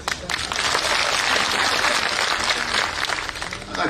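Applause at a public political rally fills the whole stretch: a large crowd clapping in a dense, steady roar that rises quickly and holds loud before tapering slightly at the end.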